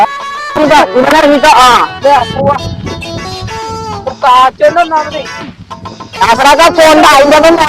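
Chickens cluck loudly and busily in a long stretch of noisy calls, with people talking over them.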